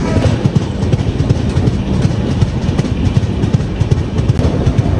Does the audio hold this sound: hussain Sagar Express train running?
yes